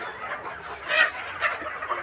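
Deshi chickens cluck close by in a couple of short, sharp bursts over a low murmur of the flock.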